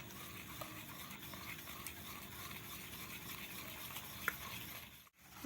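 Besan gram flour batter for beguni being whisked steadily in a bowl, a soft continuous stirring and slapping texture that runs evenly throughout, close and moderately quiet, with no talking.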